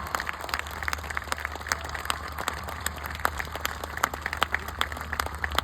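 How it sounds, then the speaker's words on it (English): Applause from a large audience at a Reliance Jamnagar anniversary celebration, a dense patter of clapping with sharper individual claps over a steady low hum, moderately loud and continuous throughout. "Please, a loud round of applause"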